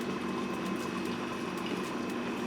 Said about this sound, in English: we're just gonna start this blender on low